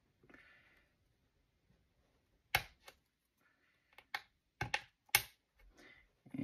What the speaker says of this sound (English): See if we can get the plastic pry tool in the front here.